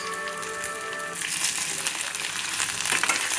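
Boiled drumstick leaves frying in a pan, a dense crackling sizzle that swells louder partway through as the leaves are stirred, close up and without speech.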